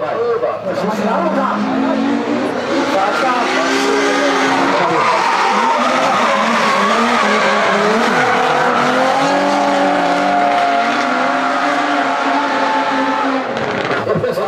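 A Toyota AE86 and a Nissan S15 drift in competition, with loud, sustained tire squeal and engines straining continuously, close and dense from start to end.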